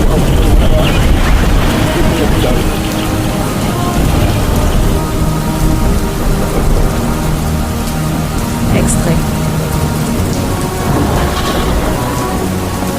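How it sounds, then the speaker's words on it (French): Heavy rain pours steadily while deep thunder rumbles, loud and close; a voice briefly speaks over the storm. "la pluie qui vient juste de s'estomper"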